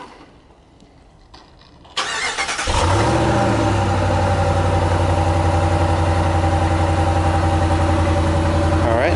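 A 2015 RAM 1500 SLT Big Horn crew cab pickup starts up after a quiet stretch: a short cranking burst, then the engine catches and settles into a loud, steady idle close by for the rest of the clip.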